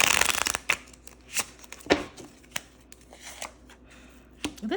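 A deck of playing cards is shuffled repeatedly up close, giving quick riffling bursts and sharp flicks at an uneven rhythm, with no talking.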